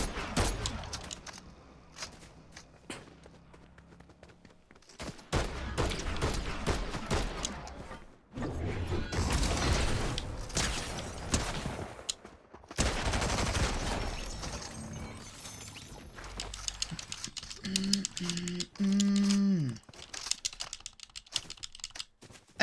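Rapid video game gunfire from a DMR rifle aimed at a vehicle's tire, coming in several loud bursts of clattering shots with short pauses between them, and a few tonal game sound effects near the end.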